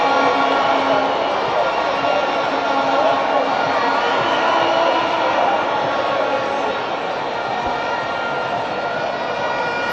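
A large football crowd at Sabina Park during a Jamaica Premier League semi-final, a dense, steady roar of many voices filling the stadium with no sharp peaks.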